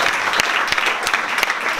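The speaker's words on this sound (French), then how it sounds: "on t'applaudit encore" Brief burst of audience applause at a comedy evening during a wine-and-laughter festival, lively clapping with a few sharper individual claps standing out, lasting under two seconds.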